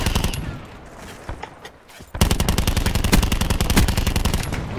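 Rapid submachine gun bursts in Black Ops 4 Blackout, loud and dense, with sparser shots early on before continuous automatic fire takes over from about two seconds onward.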